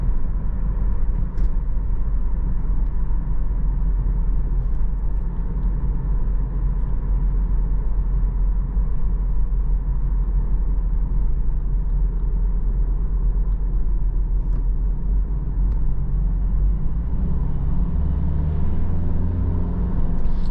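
A 2013 Subaru Outback 2.5i Premium with a CVT accelerates on the road, its engine and road noise making a steady low rumble that builds gently throughout.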